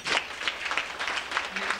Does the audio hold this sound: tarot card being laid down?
no